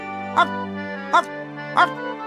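A cartoon dog named Bobek gives three short, evenly spaced yips or barks over a steady musical background, with no other voices heard.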